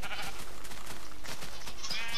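A sheep bleats in Minecraft, a short game animal cry heard at moderate loudness on a farm with no talk over it.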